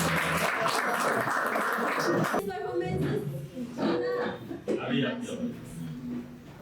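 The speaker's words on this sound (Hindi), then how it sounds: "तो एक बार फिर से हो जाए जोरदार तालियां इस प्यारे से भाषण के लिए।" A crowd at a Republic Day celebration gives loud applause for a speech. The clapping is dense at first, then fades as a compère's voice speaks over the hall.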